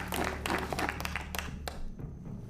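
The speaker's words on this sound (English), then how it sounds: "Clap it up, clap it up." Applause-like clapping from several hands, steady and dense for a couple of seconds, with faint talk and noise underneath.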